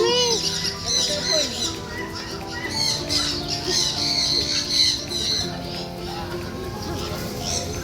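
Fantail pigeons and other birds squawking and chirping in an aviary, a busy chorus of shrill calls close by, with people and children talking throughout.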